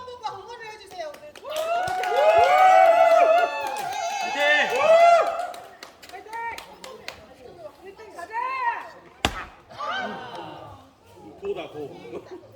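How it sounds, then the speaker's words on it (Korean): An audience claps briefly in a burst, mixed with cheering and chatter, at the wood-chopping final of the Golden Forest 2022 event, followed by a sharp single crack near the end. "박수로 한 번만 응원을 해주세요"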